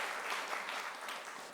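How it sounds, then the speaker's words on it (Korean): A church congregation applauds during a Sunday service, a dense, steady wash of many hands clapping at once, filling the room for a moment with no voice over it. "또 여기 또 수고했다고 박수 좀 쳐주세요."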